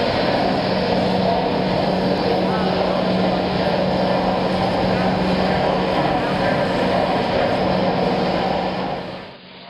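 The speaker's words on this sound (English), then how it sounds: "This is a video of a self-dumping hopper, and you're going to see a bunch of bushy wads, stringies, and coolant that will be dumped into our VAC." A self-dumping hopper tips bushy wads and stringy metal chips with coolant into a vertical access crusher, giving a loud, steady industrial roar that fills the whole stretch before cutting off at the end.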